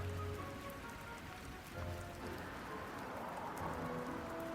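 Steady rain patters on a surface, a dense, even hiss with soft drops throughout and no voices.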